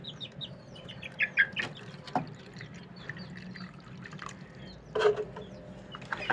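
Chicks and larger hens kept in a poultry shed during treatment for respiratory illness chirp and cluck in scattered, overlapping bursts, with a few louder calls near the end over a low, steady background and occasional drips of water.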